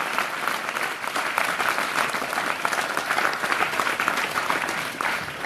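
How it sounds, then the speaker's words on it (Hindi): Loud, dense applause from a church audience clapping for Jesus, a continuous roar of hands that holds steady throughout with no voices on top. "आइए यीशु के लिए ताली बजाएंगे जोर से।"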